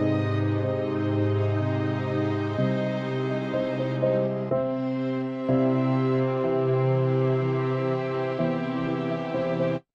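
Synthesized instrumental music composed by AI software plays steadily, sustained tones shifting chords every couple of seconds, with no voices, then cuts off abruptly at the end.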